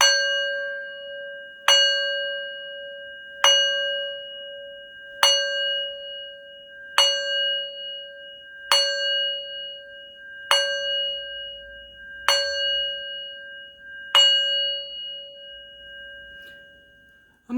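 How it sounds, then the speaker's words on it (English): A ringside bell at a WWE Raw wrestling event in Connecticut tolled for a ten-bell salute: nine clear, resonant strikes evenly spaced about two seconds apart, each ringing out and decaying before the next, with a tenth strike just beginning at the end. "such 10-bell salute."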